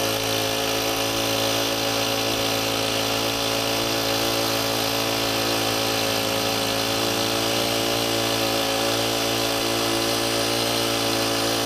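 A Valve Boss Model 70 valve operator turns a valve back to fully open, producing a loud, steady motor drone that runs unbroken the whole time.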